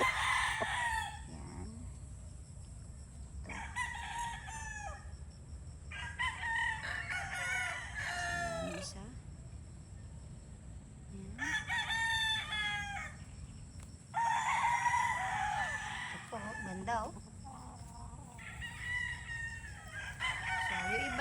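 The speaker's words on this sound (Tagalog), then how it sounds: "Ayan, may mga talisayin din po tayong mga manok." Several Kelso and Sweater gamecock roosters crow in repeated bursts against a steady farmyard hum, with occasional soft clucks in between.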